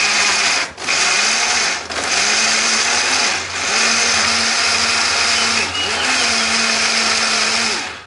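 A kitchen blender grinding shallots, garlic, turmeric and chili into a cooking paste, loud and continuous with brief dips in motor pitch as the blades catch, heard alone.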